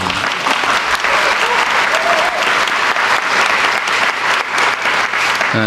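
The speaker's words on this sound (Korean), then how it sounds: "이럴 때 박수도 한번 하는 거예요" Loud, sustained applause from an audience, dense clapping that continues steadily throughout.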